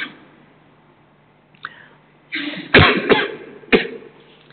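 A man coughing in a lecture setting: a faint throat sound early, then a cluster of several harsh, close coughs in quick succession with a final sharp one, little else around.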